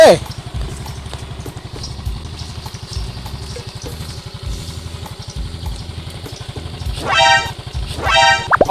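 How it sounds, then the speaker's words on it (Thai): A four-stroke motorcycle engine runs steadily in a test after a repair for a smoking exhaust, with a low rhythmic idle throughout and two short revs near the end; it sounds close and loud. "เป็นการทดลองนะครับ ทดลองเครื่องยนต์นะครับผม"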